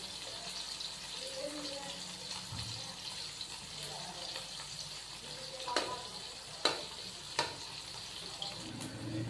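Finely chopped onions, two medium ones, fry toward light brown in a pan with a soft steady sizzle, occasional stirring clinks and scrapes punctuating it, fairly quiet and close.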